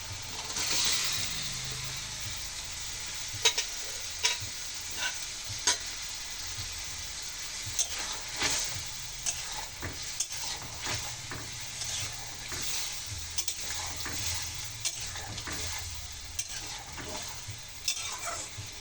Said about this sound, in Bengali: মশলা কষাই হয়ে গেছে তেল ফুটে উঠেছে এখন ডিম মটরশুঁটি আর আলু একসঙ্গে দিয়ে দেবো